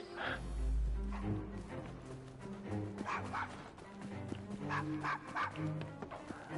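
A dog in the video game Assassin's Creed Syndicate gives short barks and whimpers, repeated yips and whines at a low, soft level over a faint background of game ambience.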